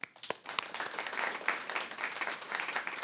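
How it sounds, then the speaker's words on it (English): A live podcast audience claps to cast a vote, starting with a few scattered claps and swelling into sustained, fairly close applause from a modest crowd. "if you think Trisha is our fibber, clap your hands."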